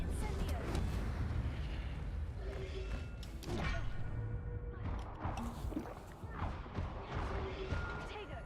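A fire spell cast in Hogwarts Legacy, a dense burst of crackling, booming game effects with thuds and crashes, loud and continuous under a voice speaking.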